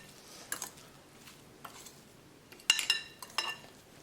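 Two forks stirring a raw lamb kebab mixture in a bowl, quiet scattered scrapes and a few sharper metallic clinks against the dish, heard alone with no talking.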